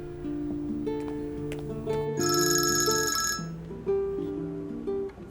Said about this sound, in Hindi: सवेरा बात सुनो, मैंने उससे पहले फोन किया था।